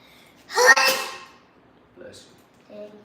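A single loud, close sneeze bursts out during a bicep-curl and calf workout, followed by a couple of faint, brief sounds in a quiet room.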